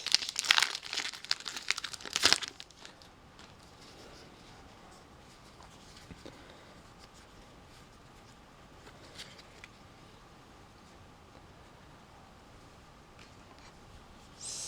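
Crinkly foil of a Magic: The Gathering Battle for Zendikar booster pack being torn and crumpled open, loud and close in the first few seconds, then fading to faint shuffling and rustling of cards.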